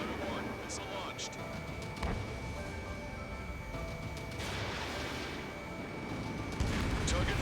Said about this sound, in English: Strata 1, missile launched.